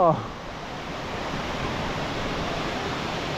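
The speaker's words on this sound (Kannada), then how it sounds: "ದೊಡ್ಡದೇ ಫಾಲ್ಸ್ ಇದು" Hebbe waterfall in Chikkamagaluru roaring as water pours down, a loud, dense, continuous rush of falling water that fills the whole clip, with a brief voice at the very start.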